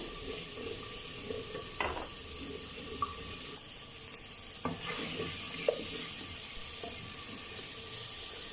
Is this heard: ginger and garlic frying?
yes